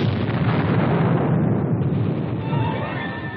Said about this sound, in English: an enemy bunker is spotted, which the tanks are able to eliminate themselves